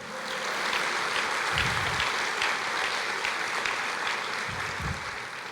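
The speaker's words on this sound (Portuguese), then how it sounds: "Você pode aplaudir o Senhor?" A church congregation claps together in a steady, moderately loud wash of applause, with faint voices mixed in underneath.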